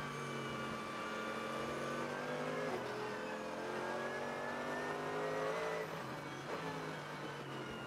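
The number 8 Mercedes-Benz race car moves through traffic past an Aston Martin Vantage during a VLN endurance race on the Nürburgring Nordschleife. Engines rev and shift with rising and falling pitch, heard moderately far off, with no talk.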